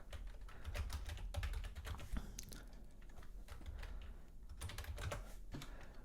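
Quick, irregular clatter of keys on a computer keyboard, close and clear, with bursts of rapid taps and brief pauses between runs.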